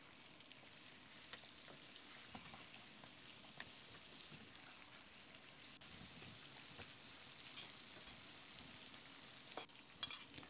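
Lamb liver fries over high heat in a pot, a faint, even crackling sizzle like light rain, with scattered soft ticks of stirring and a slightly louder clink near the end.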